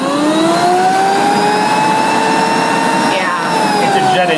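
A Waring Xtreme Hi-Power blender runs at high speed, a loud, close, steady whine with rising and falling tones, like a jet engine, over about four seconds.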